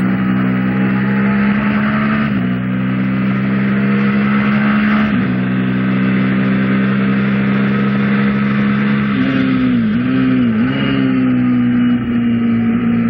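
A car engine hums loud and steady as it is driven on a track, holding a constant drone with brief dips and rises in pitch at shifts and throttle changes.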